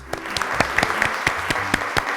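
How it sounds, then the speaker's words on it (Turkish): A children's TV game show studio audience claps briefly, a moderate patter of hands with a few sharper individual claps standing out. "Alkışlar gönderiyoruz."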